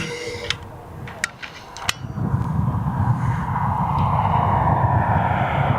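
A Ryanair airliner taxis at East Midlands Airport, its engine roar swelling from a quieter start into a steady, loud rumble, with a few sharp clicks early on.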